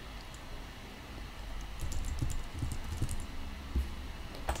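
Keys on a computer keyboard are tapped in short irregular bursts while a username and password are entered, soft clicks over a steady low room hum.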